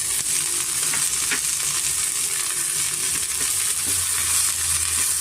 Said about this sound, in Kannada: ಅದನ್ನು ಅಷ್ಟೇ ಸ್ವಲ್ಪ ಚೆನ್ನಾಗಿ ಎಣ್ಣೆಯಲ್ಲಿ ನಾವು ಫ್ರೈ ಮಾಡ್ಕೊಬೇಕಾಗುತ್ತೆ